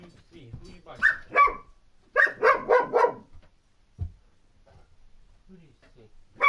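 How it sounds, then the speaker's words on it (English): A dog barks in two close, sharp clusters: a couple of barks, then a rapid run of four or five, followed by quieter shuffling sounds and a faint yip near the end. "Who are you barking at?"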